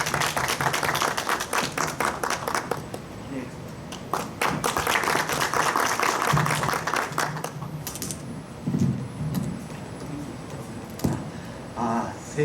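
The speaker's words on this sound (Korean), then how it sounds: "박수로 맞아주십시오" Audience applause at a medical ultrasound workshop welcoming a guest speaker, a burst of clapping in the first seconds that thins into scattered claps, taps and murmuring talk before the speaker starts.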